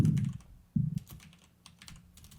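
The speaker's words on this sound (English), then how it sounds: "I have a hard time talking while I'm typing" Someone types on a computer keyboard in quick, close bursts of keystrokes with brief pauses between them, and no one speaks.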